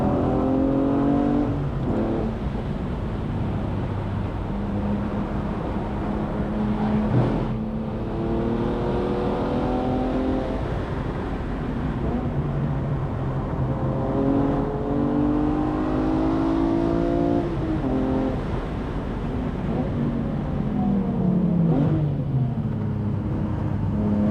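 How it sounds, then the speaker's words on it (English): A modified BMW M3 E46 engine revs hard and repeatedly on a race track, rising through the gears with loud, raspy acceleration and brief shifts, close and continuous. "the way this one sounds with the mods, I just find it so intoxicating"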